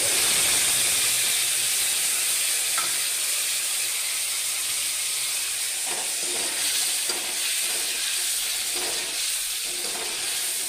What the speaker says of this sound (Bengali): দেখো তেলটা গরম হয়ে গেছে। এবার আমি দিয়া দিব মশলা ভাজার লাগিয়া।